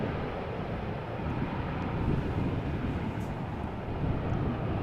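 An airplane landing at Amsterdam Schiphol Airport makes a steady, broad, rumbling roar at moderate distance, with wind buffeting the microphone and no talk.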